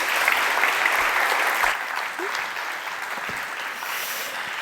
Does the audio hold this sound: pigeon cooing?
no